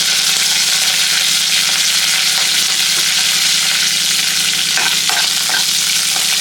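Curry leaves and Byadgi chillies crackle and sizzle steadily in hot oil over a low flame, a loud continuous frying hiss with small pops and a stirring scrape near the end, no voices.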